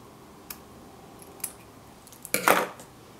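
Scissors snip the ribbon tails of tiny bows: two light, isolated cuts followed by a louder, closer cluster of crisp snips near the end, with no talking.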